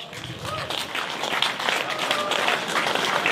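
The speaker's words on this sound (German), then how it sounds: "Auch einen herzlichen Applaus" A crowd at an outdoor pro-democracy demonstration in Weimar claps without a break, a dense, moderately loud applause with a voice speaking over it.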